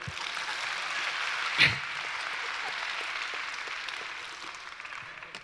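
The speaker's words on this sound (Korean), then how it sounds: "박수 한번 하세요." A church revival audience applauds together, a continuous wash of clapping that holds steady throughout with one brief louder burst near the start.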